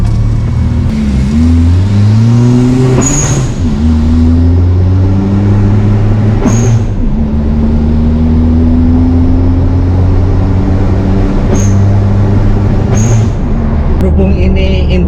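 Turbocharged Honda Brio engine revving hard several times, each climb ending in a sharp hissing turbo blow-off, loud and close, with the revs rising and falling between bursts.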